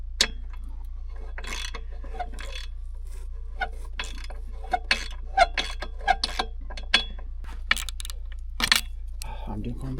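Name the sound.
ratchet wrench turning a bolt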